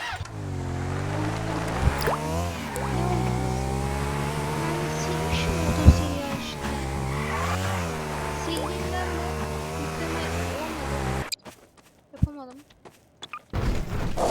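Engine note of a car driven in the Garry's Mod video game, with steady harmonic revving that rises and falls and brief squeals, loud and continuous for about eleven seconds before cutting to near silence with a few faint sounds.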